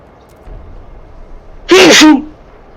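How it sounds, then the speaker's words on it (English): A single sharp human sneeze bursts out close and loud after a quiet room-tone lull, with a brief voiced tail. "Gonna sneeze."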